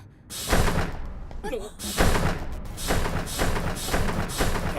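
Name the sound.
train door slamming shut, from Persona 3 movie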